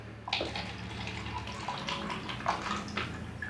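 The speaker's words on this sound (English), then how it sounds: "we're going to fill it with water" Water poured from a container into a small plastic cup, a steady close splashing and trickling fill lasting a few seconds with brighter splashes along the way, no talking.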